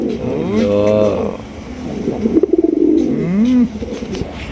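White-breasted, white-tailed pigeon cooing close by, several deep resonant coos with a throaty rolling note, over a steady background hum.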